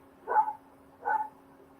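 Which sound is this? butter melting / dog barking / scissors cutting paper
dog barking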